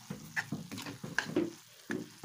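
A spoon stirring tomato and lady's finger curry in a pan, several short scraping strokes against a quiet sizzle, close and moderately loud.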